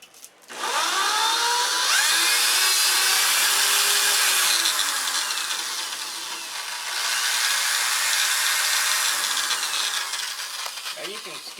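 Sanding with 80 grit sandpaper, a steady broadband scraping rasp that runs nearly continuously at close range, briefly easing midway before resuming.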